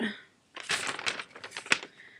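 A ripped book page is handled close up. It gives a quick burst of papery rustling and crinkling that lasts a little over a second after a short pause.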